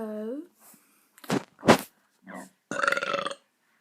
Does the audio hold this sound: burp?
yes